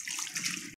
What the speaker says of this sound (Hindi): डालें इसके ऊपर पानी